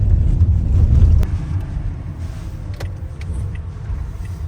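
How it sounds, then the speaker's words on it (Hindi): A Toyota hybrid luxury sedan drives along with a steady low road rumble, louder for the first second and then a constant hum, with no talking. "तो हमारी जो ये गाड़ी है ये है Toyota hybrid car luxury sedan"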